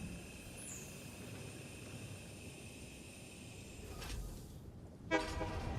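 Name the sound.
train in the video game Satisfactory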